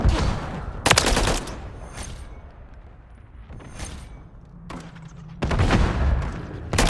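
Loud bursts of video game gunfire in an online first-person shooter, with sharp broadband shots around one second and again near the end, sustained rattling in between and a lull in the middle.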